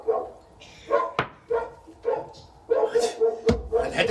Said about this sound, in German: Hör doch den Hund blaffen